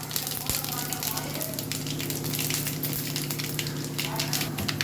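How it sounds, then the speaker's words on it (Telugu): Cumin, mustard seeds, urad dal and coriander seeds temper in about four tablespoons of hot oil, giving a loud, continuous sizzle with popping crackles close at hand while someone talks. "ఇప్పుడు పోపు దినుసులను జీలకర్ర, ఆవాలు, కొంచెం మినపప్పు, ధనియాలండి."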